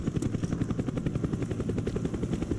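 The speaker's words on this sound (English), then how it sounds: "Our spy plane's in the air." A spy plane in the Call of Duty video game flies overhead, heard as a steady, pulsing rotor-like drone with a regular throbbing beat, loud and continuous, with no speech over it.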